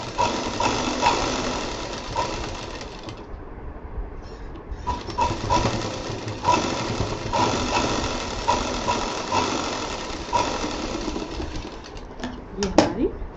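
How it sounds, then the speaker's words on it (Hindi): A sewing machine runs double stitching along the belt strap of a shiny handmade bag, whirring in steady bursts with brief pauses and a short stop near the end, and a voice speaks over it. "जहाँ बेल्ट है वहाँ पे डबल सिलाई चला दें।"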